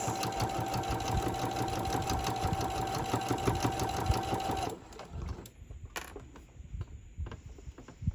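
Sewing machine stitching fabric pennants onto a banner, a fast steady mechanical whir and rapid needle ticking running close up for several seconds, then stopping abruptly, leaving faint handling clicks and rustles.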